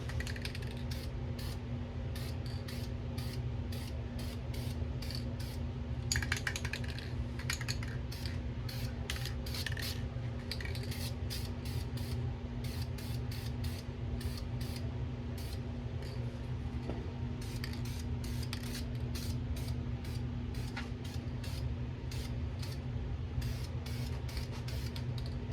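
A spray can lays down light coats of paint on front suspension parts of a 1989 Mustang GT, with short, repeated hissing bursts over a low, steady background hum, some bursts run together and others spaced apart.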